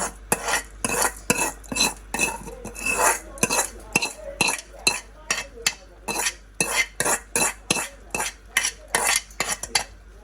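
A metal spoon stirs vermicelli into sago payasam in a metal pot, scraping and clinking against the sides in a steady, rapid rhythm of close, loud strokes.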